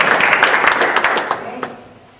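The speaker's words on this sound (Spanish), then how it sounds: "Denle un aplauso al Señor" Congregation applauding at a Christian church service, a dense wash of clapping that fades out over about two seconds.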